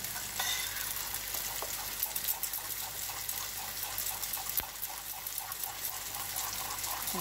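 Risen pizza dough batter, thinned with water, being stirred in a bowl: a steady wet, sloshing swirl with soft repeated scraping strokes, close and continuous throughout.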